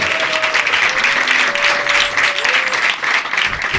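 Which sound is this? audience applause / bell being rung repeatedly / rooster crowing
audience applause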